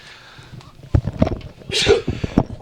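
A single sneeze bursts out amid a noisy background with scattered voices and thumps, at a wet local Australian rules football match.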